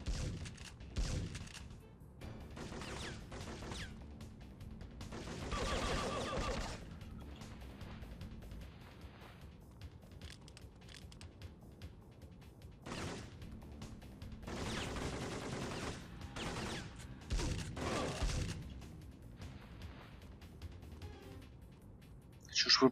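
Gunfire from a powerful one-hit-kill gun in the PS1 video game Syphon Filter, heard as repeated bursts and single shots scattered across the stretch alongside other game effects, with no talk.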